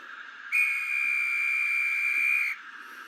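A model railway guard's whistle gives a single steady high blast lasting about two seconds, clear and close, over a faint background hum.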